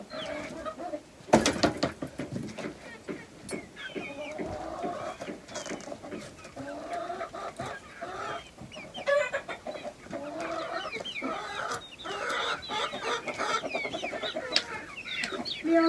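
Chickens cluck and murmur steadily throughout, several birds close by with overlapping calls and a few sharper squawks, with a loud clatter near the start as a ladder is moved among the hens.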